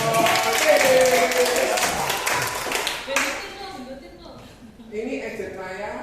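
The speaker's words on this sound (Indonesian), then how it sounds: "Tepuk tangan dong" An audience in a talk about the life of an insurance agent claps hands in a dense burst of applause that fades out, with a voice talking over and after it.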